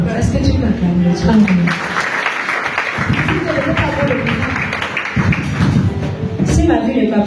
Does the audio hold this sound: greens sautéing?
no